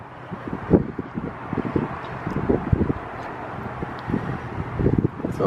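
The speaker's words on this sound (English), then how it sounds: "It's a little windy." Wind gusts on a hotel balcony, buffeting the microphone with low, rumbling, uneven blasts and rustling, moderately loud and continuous, with no talking.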